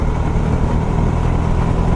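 A KTM 390 Super Duke motorcycle engine runs in a smooth, steady hum, close and moderately loud, with no speech.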